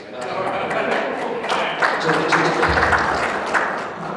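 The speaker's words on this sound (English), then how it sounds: "You know, I only get applause when I stumble." Audience applause at a church conference session, a broad steady patter of clapping from a room full of listeners, moderately loud and sustained for several seconds with some murmuring underneath.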